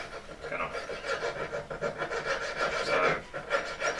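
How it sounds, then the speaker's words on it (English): A jeweller's saw cuts out metal claws in quick, steady rasping strokes, close and fairly quiet, with no talk. "Keep moving the saw when you change the direction."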